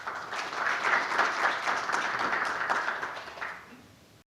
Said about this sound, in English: Please welcome him with the round of applause.